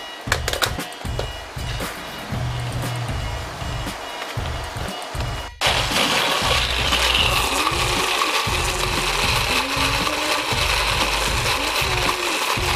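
A mini food processor blitzes almonds into almond butter with a loud, continuous grinding whir that steps up sharply partway through and keeps running steadily to the end.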